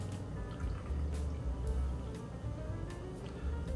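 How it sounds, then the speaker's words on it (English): Old Forester 100 bourbon pours in a steady, continuous trickle into a cocktail tin, a soft liquid splash that runs without a break for a few seconds. "And we're going to pour in 2 full ounces."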